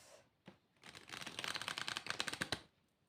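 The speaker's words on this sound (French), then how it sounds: "Et on va remélanger les cartes." A deck of tarot cards being shuffled by hand, a soft buildup into a dense run of rapid riffling flutters and clicks that ends in a couple of sharp taps, close and fairly quiet with no talk.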